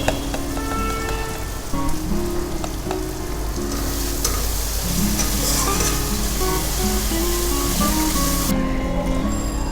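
Ground chilli and cumin spices fry loudly in oil for a sweet, sour and spicy sea crab curry, a dense steady sizzle with soft stirring over continuous background music.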